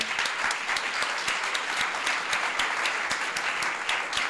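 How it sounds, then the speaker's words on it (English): An audience at a State of the City address applauds city staff, with even, continuous clapping from many hands and little talk. "clap for them"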